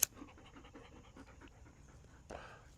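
A puppy dog pants in quick, soft rhythmic breaths close by in a quiet room, ending with a brief louder rustle.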